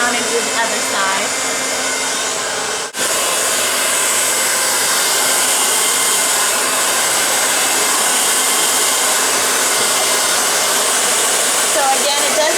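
A hair dryer blows out a woman's hair for a wavy style, its loud, steady roar continuous and close, with a brief dip near the start.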